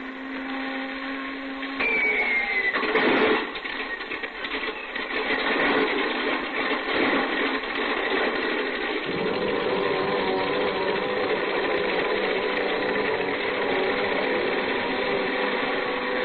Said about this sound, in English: I didn't waste much time warming up the engine.